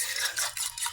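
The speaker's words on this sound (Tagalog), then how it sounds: "Huwag kalimutang haluin." A spoon stirring food in a pan, heard as a brief, close, soft scraping swish over about a second, with no talking.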